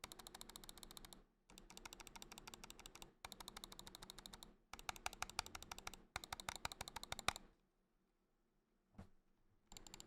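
Button clicks from an IronCat HPC02 Pro gaming mouse, sharp, close, rapid taps in quick bursts separated by short pauses, then a single faint click after a near-silent gap.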